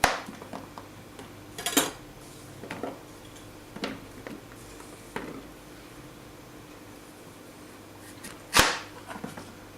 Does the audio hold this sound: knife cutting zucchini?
yes